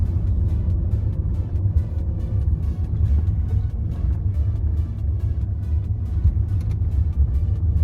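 A 2009 Toyota Camry Hybrid, a 2.4-liter four-cylinder front-wheel-drive sedan, gives off a steady, loud low rumble that holds evenly throughout with no voices.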